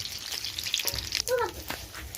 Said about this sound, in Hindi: इसको तेल फ्राई कर रहे हैं